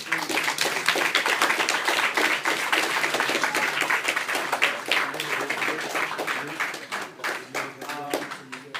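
A round of applause from a university audience at a talk, many hands clapping in a dense, slightly uneven wash that gradually thins toward the end.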